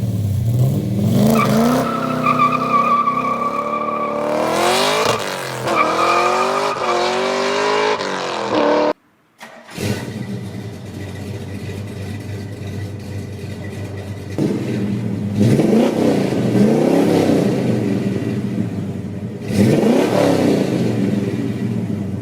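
A crossplane V8 engine revs hard several times, its note climbing and falling in loud surges with a brief cut to silence midway, then further rising revs after a quieter idle stretch.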